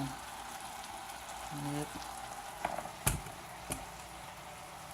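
Hot oil sizzling steadily in a pan over a fire, ready for frying plantain, a soft continuous crackle with a few sharper pops and clatters, and a brief spoken word.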